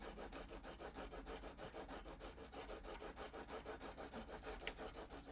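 A chisel worked with medium pressure gives a fast, even series of soft rubbing strokes, dozens in quick succession, faint and close with no talking.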